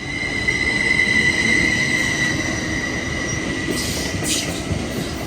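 A smooth-riding passenger train bound for Santa Clara rolls past with a steady, close rumble, a long high wheel squeal over the top, and a few sharp clicks toward the end.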